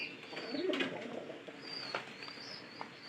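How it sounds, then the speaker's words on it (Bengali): Pigeons coo softly nearby, a pair of low rolling calls with faint chirps and rustling in the background. "একসাথে কবুতর ওই যে আমি কতক্ষণ আগে দেখালাম, এই যে এ পায়রা এবং এ পায়রি"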